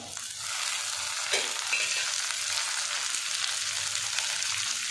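Onion and tomato frying in a pan for bitter gourd curry, a steady close hiss of sizzling oil with a faint stir partway through, no voices over it.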